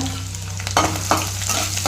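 Garlic and finely chopped ginger frying in hot oil, a steady soft sizzle with occasional spoon scrapes stirring the pan, close up.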